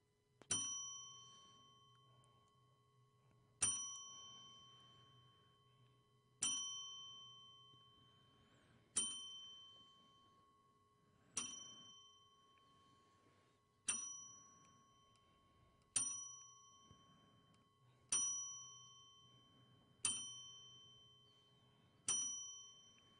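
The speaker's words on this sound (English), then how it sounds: "Do we do our own little 10-bell salute?" Ten bright bell strikes ring out as a wrestling ten-bell salute, one after another, each ringing on and decaying, spaced a few seconds apart with the pace quickening slightly toward the end.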